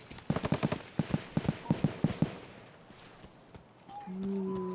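Gunfire in the video game Escape from Tarkov, a quick burst of about a dozen sharp shots in a rapid rhythm, fairly close, followed by quieter ambience and a brief tone.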